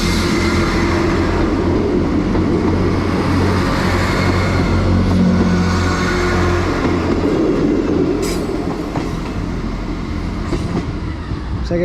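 Transport for Wales Class 158 diesel train pulling out of Llandudno Junction station, a loud continuous engine rumble with rolling wheel noise and faint clicks, close by, with no voices.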